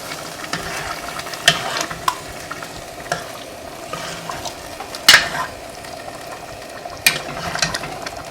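Homemade chili being stirred in a pot, with a spoon scraping and occasionally knocking the sides in sparse, uneven strokes above a low, steady simmering sizzle, heard close.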